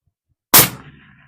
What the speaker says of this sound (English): I'm going to shoot the small IPSC with the white line.